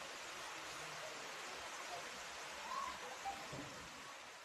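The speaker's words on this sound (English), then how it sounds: "It's raining, guys." Rain falls steadily outdoors, a soft, even hiss of drops heard at low volume from a distance, with no talking.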